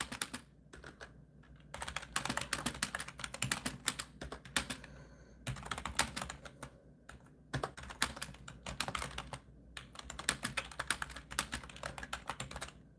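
Rapid typing on a computer keyboard, close and fairly loud, in bursts of quick clicking keystrokes with short pauses between runs, no voices.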